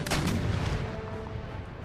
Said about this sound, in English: Artillery, cease fire.